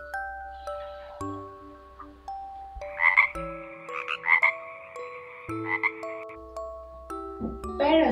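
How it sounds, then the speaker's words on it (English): A frog croaks in repeated short bursts, loud and close, set against a bright chiming musical backdrop with no talking. "Frog."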